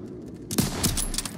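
Rapid bursts of gunfire in the World War II shooter game Call of Duty: WWII, a loud close fusillade erupting suddenly after a quiet moment and continuing in dense overlapping shots.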